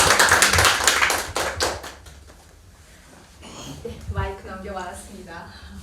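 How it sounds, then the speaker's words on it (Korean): At a book-launch forum, an audience claps briskly for a couple of seconds; the sharp hand claps thin out and fade, and a voice then begins speaking. "우리 전현주 박사님 큰 박수 한번 좀 부탁드립니다."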